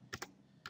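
Three quick, faint key presses on a computer keyboard, with two clicks close together and then a third after a short pause, alone.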